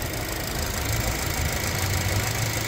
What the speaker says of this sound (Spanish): Ese ruidito es característico del turbo de Volkswagen, Audi